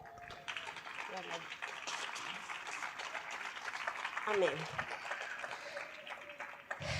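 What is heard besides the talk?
church congregation clapping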